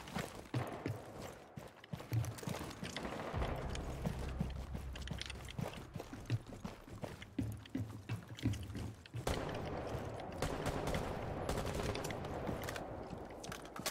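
Gunfire in Rainbow Six Siege comes as scattered sharp shots and short bursts over a faint, busy background, some bangs louder and closer than others, fairly quiet overall.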